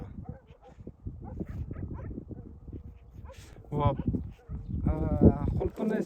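Dogs near a strawberry field bark and whimper in short bursts, with a few higher yips, heard alongside ongoing talk.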